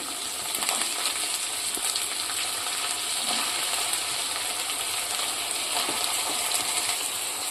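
Thin-sliced potatoes fry in hot oil for sabudana khichdi, giving a steady, close sizzle with a bright crackling hiss that runs unbroken throughout, with no voices.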